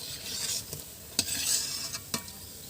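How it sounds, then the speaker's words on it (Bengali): Raw papaya pakoras fry in oil with a soft, steady sizzle, broken by a few sharp clinks and scrapes from a utensil moving through the pan. "এর মধ্যে আরও কিছু পকোড়া আমি দিয়ে ভেজে নিচ্ছি।"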